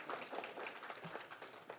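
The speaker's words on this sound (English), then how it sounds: "give her a big round of applause for her birthday" Audience at an election forum clapping, a faint scattered patter of many hands held steady for about two seconds.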